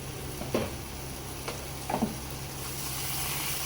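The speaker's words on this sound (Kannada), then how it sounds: "ಸೊ ಈಗ ಫ್ರೈ ಆಗಿರೋದಕ್ಕೆ ನಾನು ಸ್ವಲ್ಪ ಬಿಸಿ ನೀರನ್ನು ಹಾಕ್ಕೊಳ್ತಾ ಇದ್ದೇನೆ." Hot water is poured into a pan of sizzling fried masala for a mixed vegetable kurma, giving a steady low sizzle with a couple of brief bursts of bubbling and splashing, fairly quiet throughout.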